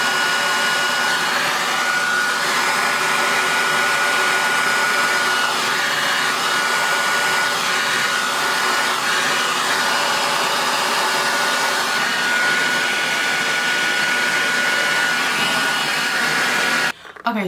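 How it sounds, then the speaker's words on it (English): A hair dryer fitted with a diffuser drying curly hair runs as a loud, steady whir throughout, then cuts off abruptly near the end. "you can start actually diffusing and getting up to the roots"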